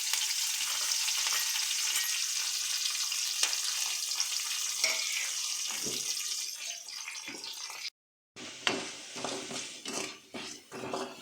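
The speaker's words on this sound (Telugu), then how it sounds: "ఇప్పుడు శనగబేడలు, తెల్లగడ్డ, ఒట్టిమిరపకాయలు, కరివేపాకు వేసుకొని వేయించుకోవాలి" Steady frying hiss of chana dal, garlic, dried red chillies and curry leaves in hot oil, then intermittent stirring scrapes and clinks against the pan near the end.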